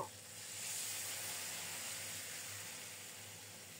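A loud, steady hiss of water poured into a hot pan of rohu fish curry with potatoes, rising quickly and holding as a continuous steamy sizzle.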